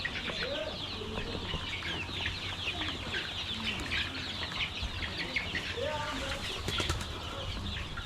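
Chickens cluck and chatter softly throughout a poultry farm in Addis Ababa, with scattered short calls and an occasional flutter of wings at a moderate distance.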